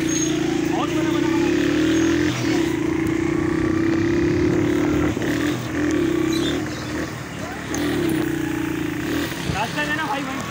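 A motorbike engine hums steadily nearby on a street in Gulshan-e-Iqbal, Karachi, with a sustained drone that dips briefly, under frequent shouting voices.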